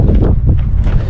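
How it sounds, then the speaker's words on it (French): Strong wind buffets the microphone at the bow of a moored boat in a harbour, a loud, continuous low rumble with gusty surges. "oh, il y a du vent."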